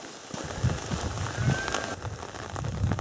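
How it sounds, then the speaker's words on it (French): Steady rain falling on a hiking path in the Creuse countryside between Linard and Malval, a soft continuous patter with small scattered drops close by and no voices. "la pluie s'est un petit peu calmée."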